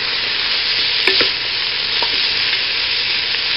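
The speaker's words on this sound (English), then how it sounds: "I'm going to go ahead and put the chorizos in." Chorizo sizzling in butter in a skillet, a steady loud frying hiss with a few light stirring clinks, no voices.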